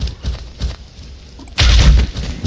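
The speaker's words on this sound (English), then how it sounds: "I never get tired of shooting these guys." Gunfire in the World War II dinosaur shooter Dino D-Day, with a few light, spaced shots early on, then a sudden loud burst of heavy firing that carries on to the end.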